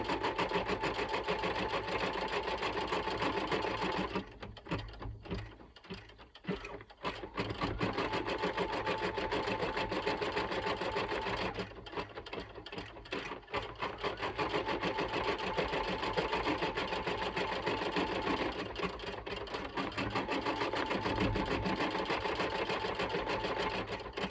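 An embroidery machine stitching a Halloween design hums with a fast, even mechanical buzz that runs steadily for a long stretch, briefly thinning and slowing twice before picking up again, close and continuous.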